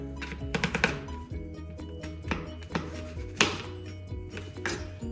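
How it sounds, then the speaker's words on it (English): A knife chops sweet potatoes into bite-sized chunks on a cutting board, making a series of crisp, irregular thunks at moderate volume. "We'll start with the sweet potatoes, and we're just going to cut them down into chunks carefully."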